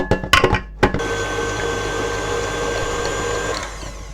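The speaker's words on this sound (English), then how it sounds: "I'm going to put these into the mixer to whisk" A stand mixer whisks eggs and sugar for a chocolate yule log, starting with a few loud knocks of eggs and bowl, then settling into a steady, continuous whirring drone close by that runs without pause.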